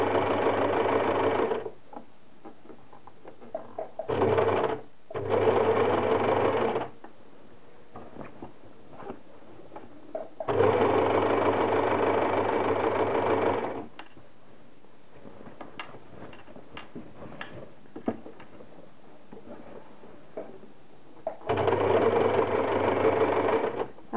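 Sewing machine with a zipper presser foot stitching close to the zipper teeth on a straight skirt, running in several steady, loud bursts with pauses between them.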